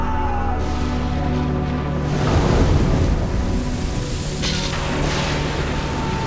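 Steady roar of wind and surf, with a swelling wave washing in midway and continuous rushing noise throughout, no voices.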